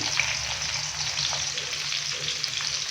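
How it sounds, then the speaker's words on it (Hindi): Finely chopped onions fry in oil left over from frying okra, giving a steady, close hissing sizzle that holds evenly throughout, with no voices. "अभी उसी ऑयल के अंदर हम प्याज डालेंगे"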